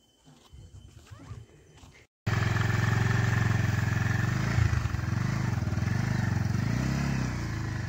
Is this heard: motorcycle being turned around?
yes